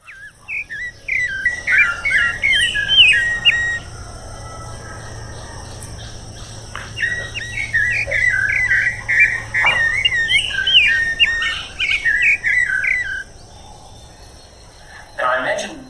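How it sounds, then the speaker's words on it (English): A Clay-colored thrush, Costa Rica's national bird, sings clear whistled phrases in repeated bursts over a steady insect and cricket hum, with a long pause mid-song. "a thrush named the national bird of a mega-diverse tropical country. So once I read about this friendly bird, I found its song on YouTube"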